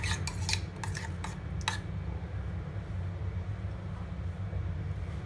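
Cucumber salad with chopped coriander leaves is stirred in a bowl, a few sharp scraping clinks at the start, then a steady soft mixing rustle over a constant low background hum.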